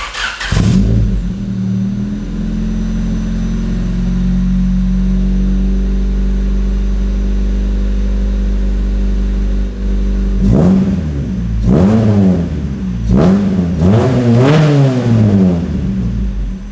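A Honda D16 engine in a mini pickup truck cranks and catches, settles into a steady loud idle, then is revved several times in sharp rising and falling bursts.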